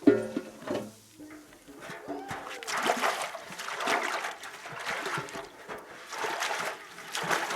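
Fresh water running over vegetables during rinsing, an uneven splashing trickle close by in a kitchen, swelling and easing in waves.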